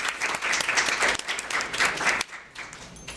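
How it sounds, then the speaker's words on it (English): An audience applauds, a dense patter of many hands clapping that fades somewhat toward the end. "Round of applause for our panelists."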